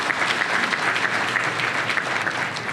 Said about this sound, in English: That is worth clapping for.